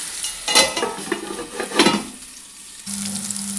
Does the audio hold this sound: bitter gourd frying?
yes